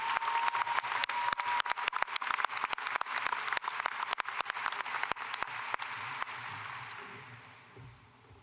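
Graduation audience at a high school ceremony gives a round of applause for the student council leaders: dense clapping with sharp individual claps standing out, steady for several seconds before thinning and fading near the end.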